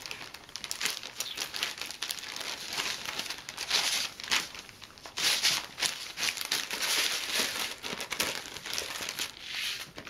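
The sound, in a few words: beads rattling and crinkling in packets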